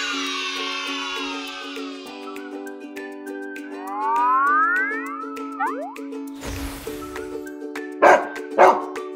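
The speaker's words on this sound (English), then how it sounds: "Dog." A dog gives a couple of short, sharp barks near the end, following cartoonish boing and sliding musical effects over a steady backing tune.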